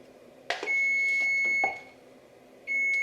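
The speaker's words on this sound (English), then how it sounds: "I know I turned the timer off." Electronic kitchen timer beeping in a home kitchen while chicken enchiladas with black beans are being topped with sour cream: a short steady tone, a second brief beep, then the tone starting again near the end, loud and close, with no talk.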